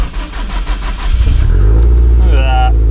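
Subaru STI with a grey body fires up: cranking gives way to a loud, close engine catching and revving into a steady, rumbling idle, with a brief rising whine near the end.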